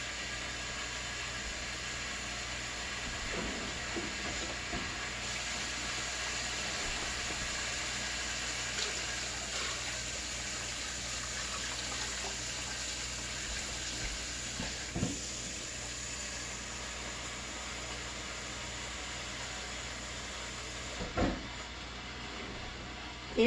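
Hot tap water pours steadily from a faucet into a canning pot, a broad continuous hiss and splash with a few knocks and clunks, close by.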